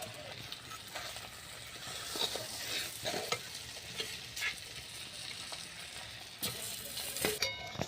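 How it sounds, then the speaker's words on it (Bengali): Boiled Indian gooseberries (amla) are stirred into sugar in a pan, giving a continuous soft, moist scraping and shuffling close by, with occasional louder strokes and no talking. "চিনিগুলোকে আমি আমলকির সঙ্গে ভালো করে মিশিয়ে নিচ্ছি"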